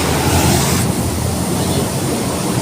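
Loud, steady rush of air roaring broadband and close from an opened cooling tower door, a continuous blowing noise with no voices, dipping slightly after the first second.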